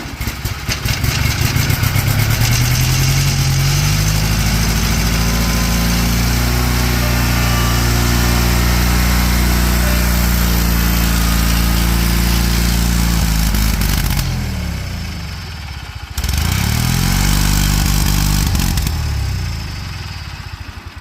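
A Kohler KT17 twin engine on a Bolens tractor cranks and fires, then runs at a steady, loud, high-pitched drone up close, dips briefly as it stumbles, and picks back up to a steady run.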